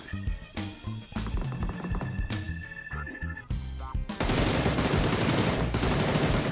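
Automatic gunfire in the video game PUBG, rapid bursts of shots rattling off one after another and then dense continuous firing, loud and close.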